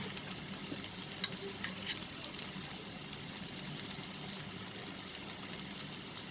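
Chicken cheese kebab frying in a pan over a low flame, giving a steady, soft sizzle with faint crackles and a few small pops throughout, close and continuous with no talking.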